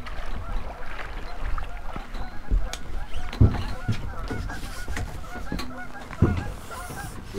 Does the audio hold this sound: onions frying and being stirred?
no